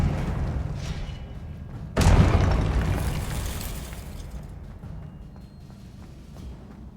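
A single heavy fiery blast from a Confringo spell in Hogwarts Legacy, a sudden loud boom that rumbles and slowly fades over several seconds.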